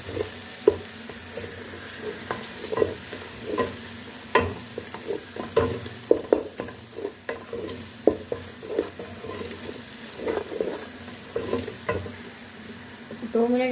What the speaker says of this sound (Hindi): दो मिनट हम इनकी भुनाई कर लेंगे।